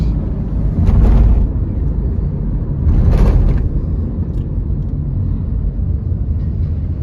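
Renault Duster diesel with automated manual gearbox, heard from inside while driving: a steady low engine drone with two brief swells in revs as it downshifts.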